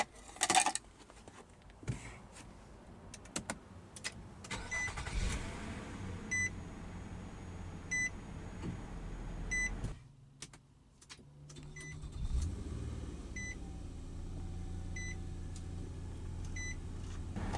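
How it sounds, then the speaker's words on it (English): Chimes and beeps sound inside a quiet 2012 Nissan Murano SL (FWD), then a push-button start brings the engine to life with a brief crank and a low steady idle. "let's go ahead and start the engine."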